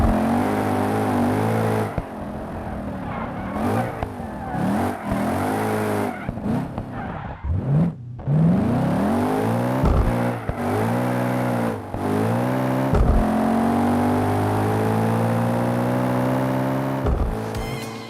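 Audi RS5 mod engine in BeamNG Drive revving hard and loud, deep tone climbing and dropping through repeated throttle presses and gear changes, with tire squeal and skidding mixed in; no talk.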